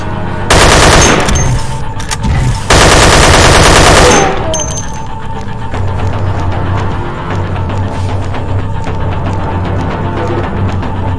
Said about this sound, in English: Get to the mounted machine gun.